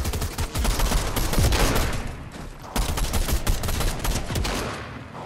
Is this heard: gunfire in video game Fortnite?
yes